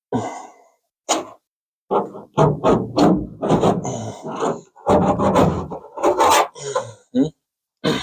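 Old, brittle roof insulation is scraped away overhead in bursts of rough rasping and rubbing, separated by short pauses, close and fairly loud, with grunts and heavy breathing mixed in.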